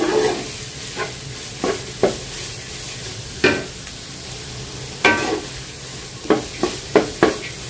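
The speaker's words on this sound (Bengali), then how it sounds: "গাজর কুচি, গাজরটা একটু নাড়াচাড়া দিয়ে তারপরে অন্যান্য সবজিগুলো দিব।" Chopped carrots frying in a pan for vegetable fried rice, a soft steady sizzle broken by about a dozen distinct spatula scrapes and taps, close and clear, at irregular intervals with no talking.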